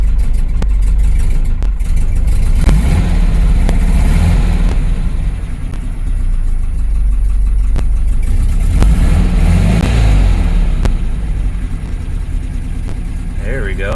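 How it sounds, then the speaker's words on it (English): A 1966 Porsche 912 engine with rebuilt carburetors idles steadily up close, low and very slow, with a low, rough rumble, a few faint clicks and a brief voice over the constant drone. "It's still idling low, very low, but we can always adjust that."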